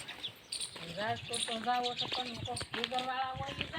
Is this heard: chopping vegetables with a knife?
no